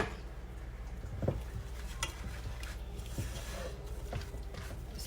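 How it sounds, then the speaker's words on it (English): A spoon stirs pasta with sour cream and spices for a casserole, soft wet scraping and occasional clinks against the pot, quiet and close with no talking. "Just mix all that around, all those good spices, that sour cream in your pasta."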